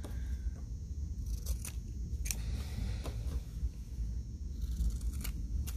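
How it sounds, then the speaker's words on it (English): Scissors snip the fabric corners of a kids' bunny sewing kit project, a handful of sharp, close cuts spaced irregularly over a low background rustle. "Now what you can do is you can cut your corners. Close to your corners, but not through them."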